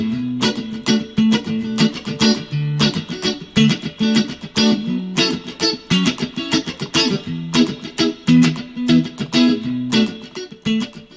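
Funk electric guitar playing a chord pattern, with tight rhythmic strumming and picked muted chops in a continuous loud groove, no talking.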